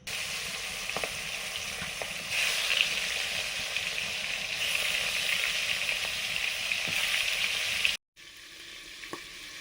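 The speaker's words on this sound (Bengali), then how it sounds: "সরষের তেল, মাছ ভাজবো।" Fish frying in mustard oil in an iron wok gives a loud, steady close sizzle that runs unbroken, drops out for a moment near the end, then resumes.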